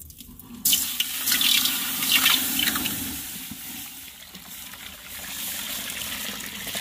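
Sugarcane juice pours through a washed flour sieve, a loud close splashing stream that begins abruptly and keeps running in a steady trickle, with no talking.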